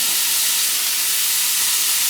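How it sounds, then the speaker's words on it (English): Food sizzling in a cast iron skillet while beef browns for shepherd's pie, a loud, steady, close hiss that holds unbroken throughout. "to that sizzle, doesn't that sound good? And we're using my nice cast iron skillet."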